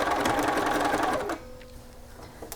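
Close and clear, a sewing machine back tacks a seam with a fast, rattling stitch burst that stops after about a second, leaving a faint motor hum and a few soft clicks.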